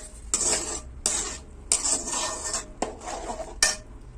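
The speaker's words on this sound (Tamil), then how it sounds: "அதையும் சேர்த்துக்கலாம் நல்லா கிண்டி விட்டுக்கோங்க" Tamarind water being stirred into egg masala gravy in a pan, giving a series of close, scraping strokes with a soft sizzle underneath, repeating about six times in a steady rhythm.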